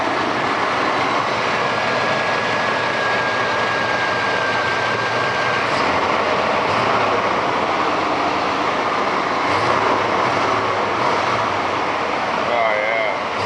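A 25-year-old Chevy 350 V8 with about 190,000 miles, freshly tuned with new plug, cap, rotor and fuel filter, runs at a steady loud idle throughout, a continuous engine drone with a voice speaking over it.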